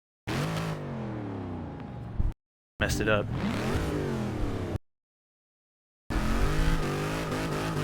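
Modern American muscle car launching hard off the line, its engine revving loudly in strong bursts broken by short silences, with tire squeal mixed in and a brief spoken remark over it.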